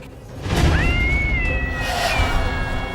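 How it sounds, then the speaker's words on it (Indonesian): A cat lets out a long, drawn-out meow, followed by a second wavering meow, close and clear over a background rumble. "Kok ada suara kucing ya?"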